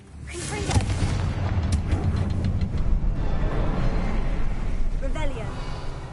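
A Confringo fire spell exploding in Hogwarts Legacy, a booming blast followed by a rumbling, crackling tail under continuous game noise, with voices over the top.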